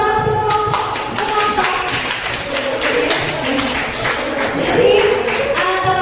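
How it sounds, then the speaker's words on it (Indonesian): Classroom group applauding a presenting group during a positive-discipline teaching session, a dense patter of many hands clapping steadily throughout, with some tonal background sound mixed in. "berikan tepuk tangan untuk kelompok"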